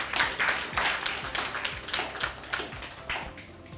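A room claps for the CEO of the Ekiti Internal Revenue Service at a tax forum, a steady wash of many hands that fades slightly toward the end.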